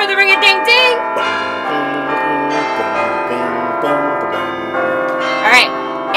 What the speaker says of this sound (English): ring that bell for the ring-a-ding-ding